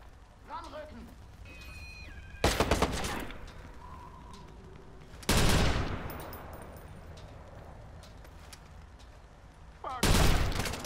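Video game gunfire in Watch Dogs comes in three separate short bursts of rapid shots amid game ambience, with a person talking between them.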